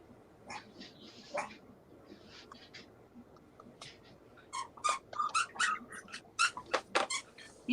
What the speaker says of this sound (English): You hear my dog? Yep, we hear him squeaking.